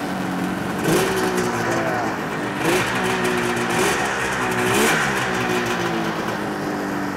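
A snowmobile engine running steadily and loud up close, with a constant dense roar and several rises in pitch as the throttle is blipped and revved, then falls back to idle.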